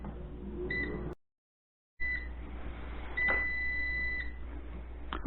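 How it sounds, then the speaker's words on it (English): A faint electronic beep from a kitchen timer, then a longer steady tone, over a quiet room hum with a brief gap of silence. "Okay, so my timer just went off."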